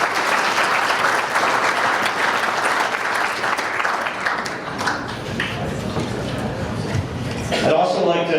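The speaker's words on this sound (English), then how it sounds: "I just like to give a round of applause." Crowd applause at the Silver Lake Hall of Fame Class of 2024 ceremony, a loud, full wash of clapping that dips slightly midway before swelling again near the end.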